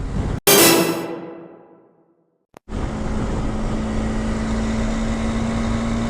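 A TVS Apache RTX300 motorcycle rides at about 7000 RPM near its top speed. After a brief dropout, a steady, high engine drone holds under constant wind rush.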